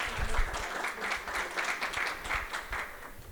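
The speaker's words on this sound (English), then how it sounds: "A round of applause." A crowd claps in steady, moderate applause, a dense patter of hands that carries on evenly without fading.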